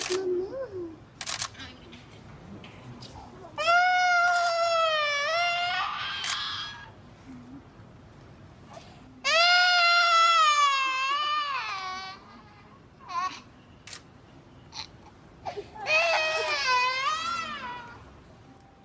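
A 17-month-old baby cries in bursts within a news broadcast clip, with long wailing cries separated by pauses and quieter background noise, heard at moderate distance.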